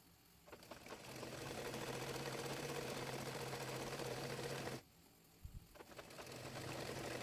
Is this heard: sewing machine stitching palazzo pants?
yes